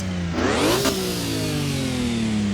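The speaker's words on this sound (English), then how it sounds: "I like the sound of this E46 a lot." A BMW E46 revs in the Assetto Corsa EVO driving simulator, heard from inside the car, with a quick climb in engine pitch and then a steady, slowly falling drone, loud and without voices.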